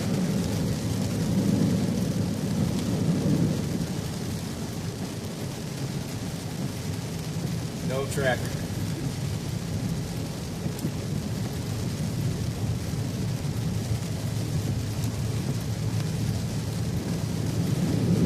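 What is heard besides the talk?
thunderstorm with rain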